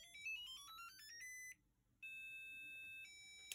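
An HP 39gs graphing calculator's built-in buzzer plays the Star Wars theme as thin, bright electronic beeps. A quick run of stepped notes is followed by a short gap and then longer sustained tones, played alone with no voices.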